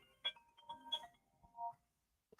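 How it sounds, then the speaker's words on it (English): A phone rings quietly in a room: short, faint electronic tones chirp in a brief melodic pattern, then fade into near silence. "I got my phone ringing."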